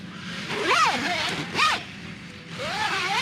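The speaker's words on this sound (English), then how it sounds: "Caught the zipper in the material." Zipper on a Hennessy Hammock Deep Jungle XL being pulled in short bursts, three quick rasping zips close by with brief pauses, the zipper catching in the fabric.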